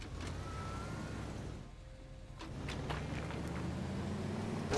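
Small truck driven in the video game Teardown, a steady engine drone running throughout with a brief dip midway, plus scattered clicks and knocks over the top.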